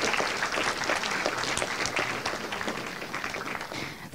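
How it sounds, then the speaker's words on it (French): Audience applause for a professor called up onto the stage at a French talk, steady dense clapping across the whole stretch at moderate level, a sudden louder burst right at the end. "On peut l'applaudir s'il vous plaît."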